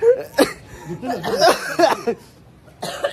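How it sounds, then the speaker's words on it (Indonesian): Several harsh coughs come in quick bursts at close range, with short pauses between them and a raspy, breathy quality. "Itu batuk beneran ya"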